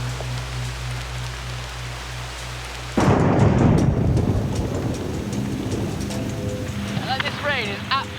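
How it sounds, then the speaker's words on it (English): A violent tropical thunderstorm on an island, where a sudden loud thunderclap breaks in, followed by heavy rain pouring and rumbling steadily. A voice speaks near the end. "rain is absolutely unbelievable. You don't ever see rain like this in the UK."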